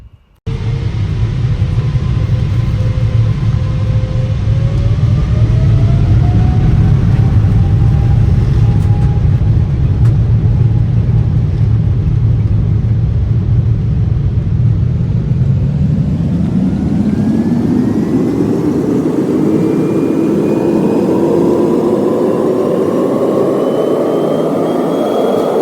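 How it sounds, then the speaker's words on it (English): British Airways airliner on its London to Singapore takeoff roll and climb, heard from the cabin as a loud steady roar of engines rising in pitch and swelling as the aircraft accelerates and lifts off. "we made our way to the runway and began our ascent"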